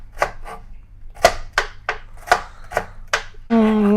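Vegetables are chopped with a knife for a Kerala home meal, about eight sharp, evenly spaced knocks on a board, close and clear, followed by a brief voice at the end.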